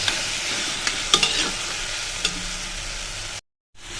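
A fish head is stir-fried with mashed roasted eggplant and cumin powder in a pan, making a steady sizzle with a few scraping stirs. The sound cuts out briefly near the end.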